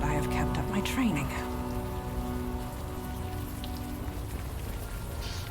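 Steady rain falling in the Unavowed adventure game, a dense continuous patter heard alone at constant loudness, with a brief rumble early on.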